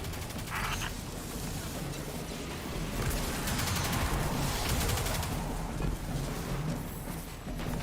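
Turrets fire in Destiny 2 as dense, continuous bursts of rapid shots mixed with booming impacts. The loud barrage goes on without a break.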